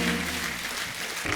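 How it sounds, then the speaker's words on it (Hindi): A studio audience on a comedy talk show breaks into brief, dense applause, a steady wash of clapping with no voices standing out. "एक बार जॉन, मृणाल और रवि भाई के लिए जोरदार तालियां"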